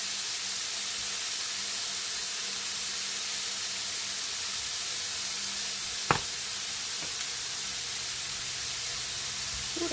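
A steady, broadband hiss of Creole-seasoned food sizzling in a hot pan continues throughout, with a single sharp knock midway.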